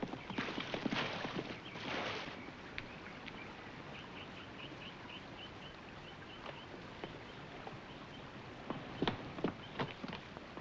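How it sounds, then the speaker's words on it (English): A horse clip-clops away after throwing its rider, hoofbeats fairly faint and receding, with a few sharper steps and scuffs over a quiet outdoor background. "Oh, my horse left me. He threw me and ran away."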